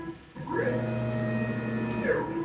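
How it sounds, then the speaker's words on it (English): CNC router machine moving its gantry across a bookshelf workpiece, a smooth rising motor whine that holds steady for about a second and a half, then winds down, close and with no talk. "I'm gonna put it in the CNC now"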